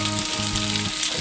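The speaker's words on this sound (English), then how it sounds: "Stir it around a little bit." Rice being stirred in a hot pot gives a brief, steady sizzle with soft scraping, close and fairly loud.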